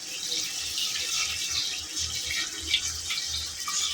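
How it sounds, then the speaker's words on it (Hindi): Water poured steadily into a cooking pot for Afghani chicken pulao, a continuous close hissing splash with no talk over it. "अब इसमें हम पानी डालेंगे"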